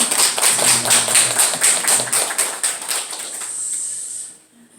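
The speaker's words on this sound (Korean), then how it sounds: "축복하며 우리 한번 박수 한번 하겠습니다" A church congregation claps steadily for a few seconds during a Korean worship service, the applause fading out toward the end.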